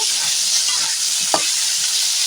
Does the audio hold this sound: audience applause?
no